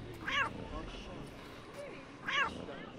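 Two meows from a cat in the video game Assassin's Creed Rogue, one early and one near the end, each short and mid-pitched, sounding over a steady game background with a faint human voice.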